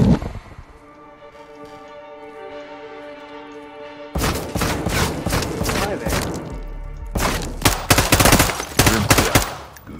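Sustained automatic gunfire and heavy thuds from the 2022 Call of Duty Modern Warfare 2 campaign burst in loudly after about four seconds of calm, tonal game ambience, with volleys continuing in dense, close clusters to the end.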